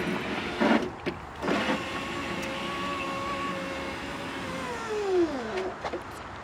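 A rear power window motor in a Chevy Trailblazer, fitted with a new regulator, runs with a steady whirring hum for a few seconds, its pitch sliding down as the window reaches its stop, between a few knocks.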